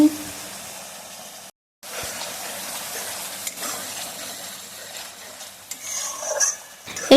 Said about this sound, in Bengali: এবার যতক্ষণ না তেল ছাড়ছে ততক্ষণ কিন্তু ভালোভাবে কষিয়ে নেব মশলাটাকে